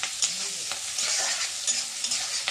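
Eggs frying in a pan with mustard paste in a home kitchen, giving a steady close sizzle with light stirring scrapes throughout.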